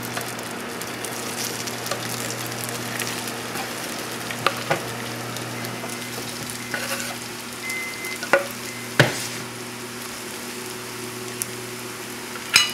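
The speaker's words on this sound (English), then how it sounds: "Well, the oil should be hot now. Slowly slide in the potatoes." Shredded potatoes for hash browns fry in hot oil with a steady, close sizzle, broken by a few sharp crackles and pops near the end.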